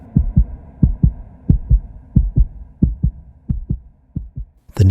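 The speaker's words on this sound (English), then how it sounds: "his heart pounding." Pounding heartbeat sound effect, a steady run of deep, loud double thumps repeating at an even pace, close and alone with no talk.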